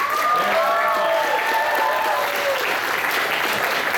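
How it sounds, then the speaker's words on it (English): Loud crowd applause at an anime convention game-show panel fills the whole stretch, with a few faint whistles rising over the clapping early on. "So give him a round of applause again"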